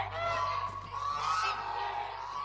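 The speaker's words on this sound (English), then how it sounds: "Geese? You can hear their honks all the way in Ponyville." Cartoon geese honk in a repeated, nasal series, fairly loud and close, with a faint low hum underneath and no talking.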